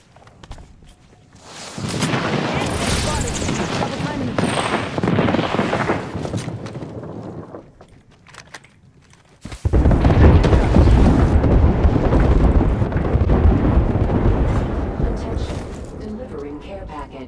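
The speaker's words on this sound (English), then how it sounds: "Grenade!" A grenade blast in the battle-royale shooter Apex Legends lands as two loud, broadband booming bursts with rumbling tails, the second heavier and sustained, mixed with gunfire and game noise while players talk over it.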